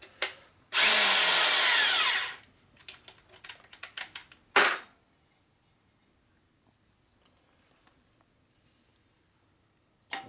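A worn, dulled Jim's reamer cuts a pinion bushing on a 1961 Harley FL 74ci panhead motor, giving one loud sustained grinding burst, then a quieter short burst and scattered ticks and clicks before fading to near silence.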